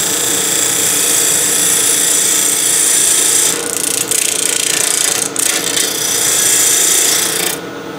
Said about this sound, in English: Just flattening the bottom, come back, start the place for my tenon.